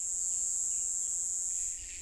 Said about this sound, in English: The cicadas are in song.